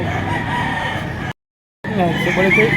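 A white Kelso bullstag gamefowl rooster crows loudly and close, its call broken by a short silent gap before it continues, with voices murmuring in the background.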